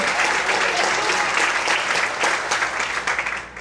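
A church congregation applauds during a Portuguese-language sermon, a dense, steady wash of many hands clapping at once that fills the room, holding strong throughout before easing slightly at the end.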